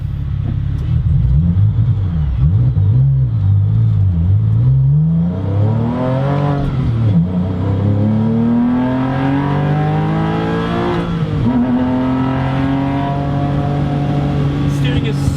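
A Porsche 996 Carrera track car accelerating hard, its engine note climbing through rising pitch sweeps with a gear change midway, loud and close with someone talking over it.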